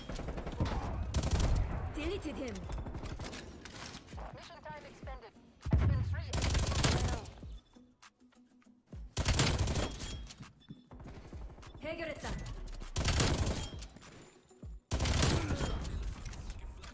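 Gunfire from a gun in Black Ops Cold War: loud, rapid automatic bursts repeated in several long volleys separated by brief pauses, close and dominant.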